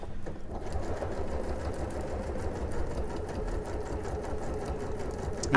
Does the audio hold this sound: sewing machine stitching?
yes